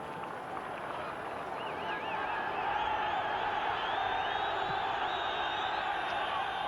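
A football crowd at a 1969 Northern Ireland versus England match, shouting and roaring at the referee, a broad steady far-off din that swells slightly.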